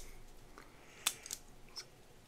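Knife cutting open a Toxic Waste candy barrel, a few faint, sharp snipping and scraping clicks spaced apart in quiet surroundings, with one crisp snap standing out.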